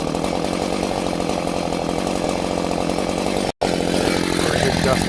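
Chainsaw running while trimming garden trees, a loud, sustained buzzing drone close by that cuts out for a split second before resuming.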